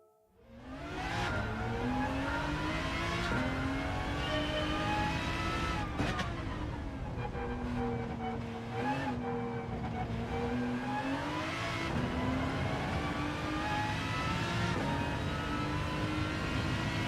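An Aston Martin DBR9 race car engine in the Gran Turismo 7 video game, revving and pulling continuously through gear changes, a steady loud drone rising and falling for many seconds.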